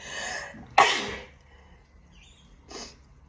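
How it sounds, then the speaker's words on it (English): A single sharp sneeze bursts out close by after a breath, followed by quieter snuffling and a short sniff. "I'm going to sneeze, hang on."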